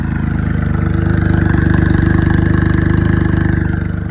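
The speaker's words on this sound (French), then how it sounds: "Regardez comment le V6 il gueule." A blue Jaguar XJ220 supercar with gold wheels runs its V6 engine on the road, giving a loud, close, steady throbbing drone that swells slightly and holds for several seconds with no talk.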